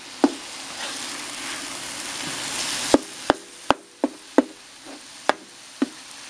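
Sausage frying in a pan, a soft steady sizzle with a series of sharp knocks and clinks from the utensil against the pan, close and fairly quiet.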